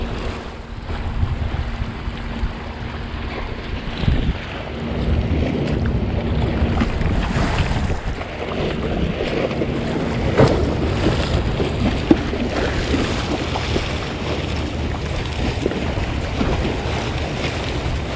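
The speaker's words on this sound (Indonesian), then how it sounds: "Ini anginnya juga lumayan kenceng nih, bos." Strong wind buffets a small fishing boat at sea, a constant roaring rush with an engine hum and water wash beneath it, steady throughout with no talk.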